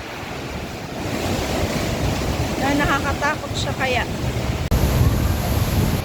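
Sea waves surge and roar into Thunder Cave on the rocky coast at Cape D'Aguilar on a rainy, foggy day, a steady loud wash with wind buffeting the microphone while people talk close by.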